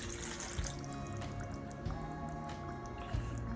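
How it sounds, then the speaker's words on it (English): Chicken broth is poured into a boiling pot for pancit bihon, giving a soft, continuous liquid splash and bubbling with a few louder drips, close by and without talk. "Once this starts bubbling, we add in a cup of chicken broth."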